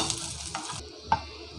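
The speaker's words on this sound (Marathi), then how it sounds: "थोडेसे धने घेतलेले आहे, ते पण परतून घेते यामध्ये" Coriander seeds roasting in a pan, giving a quiet sizzle with light stirring scrapes and one brief tap near the end, with no voices.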